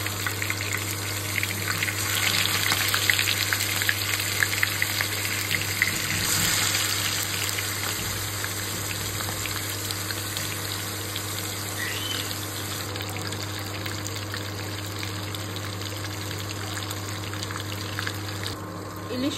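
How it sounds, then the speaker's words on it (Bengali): Hilsa fish frying in hot white oil in a covered pan on a stove, a steady continuous sizzle with faint crackles and spits throughout, no speech. "ইলিশ মাছ ভাজার সময় তেল ছিটকায়, এর জন্য আমি ঢেকে দিয়েছি"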